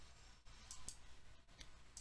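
Computer mouse clicks, faint and sparse: a few light, isolated taps with pauses between them over a quiet room hiss.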